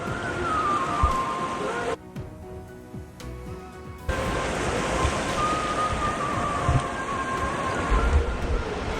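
The Alaknanda river rushes in a steady, loud broadband roar close by, continuous throughout and with no one speaking.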